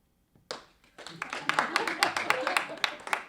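Studio audience on a late-night talk show clapping in a short, scattered burst that swells into steady applause, with some voices mixed in.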